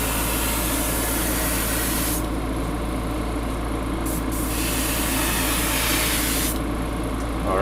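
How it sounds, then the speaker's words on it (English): Airbrush spraying paint onto the edges of cardboard wargame terrain, a steady close hiss running throughout with brief dips where the spray pauses and resumes. "And I'm just going to spray the edge of this thing as well."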